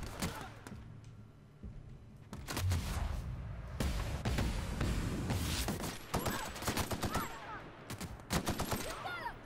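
Enemy gunfire in The Outer Worlds, with sharp shots and rapid bursts cracking repeatedly and irregularly amid explosive thuds, loud and close.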